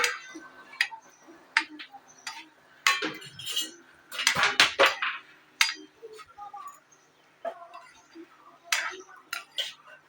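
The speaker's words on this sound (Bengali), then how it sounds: "এবার কিন্তু আমি একটু নেড়ে চেড়ে এরকম করে মিষ্টিগুলোকে ভেজে নেব" Gulab jamun made from wheat flour are stirred while frying in a pan, with irregular close clinks and scrapes of a utensil against the pan, some louder bursts mixed in.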